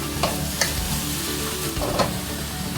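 Sliced red onions fry for a chicken stir fry, a loud continuous sizzle with a few stirring scrapes of the utensil against the pan.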